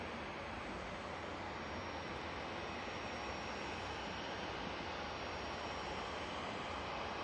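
An Indigo Boeing 787-9 Dreamliner landing at Manchester Airport on arrival from Delhi, heard as a steady, broad roar of jet engines with no talk.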